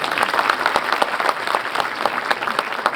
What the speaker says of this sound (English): Can we have a huge round of applause for him, please?